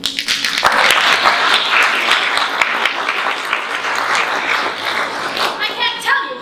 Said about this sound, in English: You may applaud if you wish.